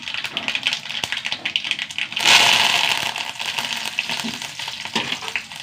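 Mustard seeds, a dried red chilli and fresh curry leaves drop into hot oil for a rasakalan tempering. A steady crackle swells into a loud, hissing burst partway through, then settles into close, continuous popping.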